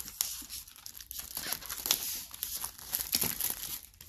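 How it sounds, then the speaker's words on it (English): A knife slices through tape on a securely taped unboxing package, giving steady crinkling and tearing with sharp rasps and plastic crackle over about four seconds, close and fairly loud, with no voice. "I'm using my knife to cut away here, because they pack it very securely with tape and everything."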